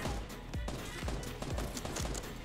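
Gunfire in Fortnite comes from the right as a rapid burst of dense, cracking shots over steady game noise, with no voices.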